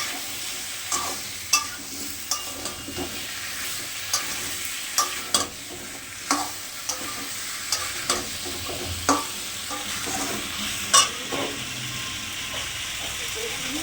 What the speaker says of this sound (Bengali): এবার মেটে আলুগুলো দিয়ে দিলাম, আর একটু কষাবো মেটে আলুগুলো